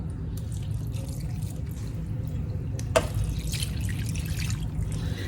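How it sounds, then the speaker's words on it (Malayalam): A liquid mixture is poured steadily into two glasses of coconut milk for a tapioca dish, making a continuous close trickle with light splashing throughout. "ഇനി നമുക്ക് ആദ്യം റെഡിയാക്കി വെച്ചിരിക്കുന്ന രണ്ട് ഗ്ലാസ് തേങ്ങാപ്പാലിലേക്ക് ഒഴിച്ചു കൊടുക്കാം"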